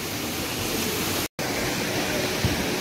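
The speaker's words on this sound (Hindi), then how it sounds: "ऊपर से पानी आता है और नीचे जाके वाटरफॉल बनता है दोस्तों।" Steady roar of the Perwa Tata waterfall in a forest, water pouring from above into the pool below, a continuous broadband rush that stays loud and even throughout, with no voices over it.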